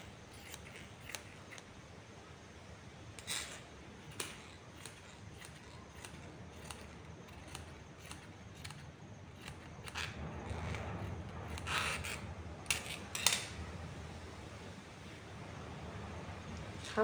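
Scissors cut cloth for a baby girl's frock in a run of faint, quiet snips and rustles, with the soft scrape of fabric growing a little busier toward the end.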